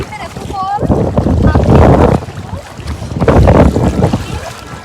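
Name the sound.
sea waves washing up on a beach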